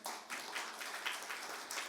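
A large audience applauds continuously for a couple of seconds, a dense wash of many hands clapping at a moderate, somewhat distant level.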